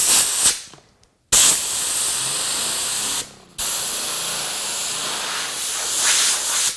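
Compressed air blows hard through a car polishing pad in two steady hissing bursts broken by short pauses, close and loud, with no speech.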